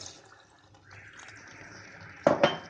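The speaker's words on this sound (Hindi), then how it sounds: "अब हम इसमें डाल देंगे 1 कप पानी" A cup of water splashes into taro stalk curry for a Himachali recipe, a short, loud gush near the end after a quiet, faintly humming stretch.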